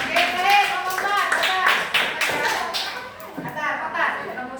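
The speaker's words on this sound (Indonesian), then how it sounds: "tepuk tangannya" A class of children applauds in an Indonesian classroom, a loud run of steady hand clapping with young voices chattering over it.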